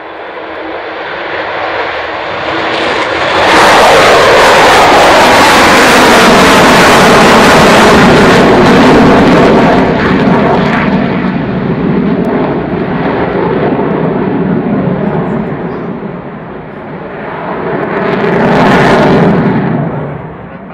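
A propeller aircraft engine roars loudly and close, building up, holding a steady heavy drone, easing off and then swelling again near the end as it passes, with no talking over it.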